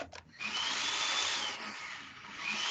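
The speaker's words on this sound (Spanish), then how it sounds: "está por ahí con su aspiradora encendida" A vacuum cleaner runs nearby with a steady, loud whooshing roar that starts after a brief pause and holds throughout.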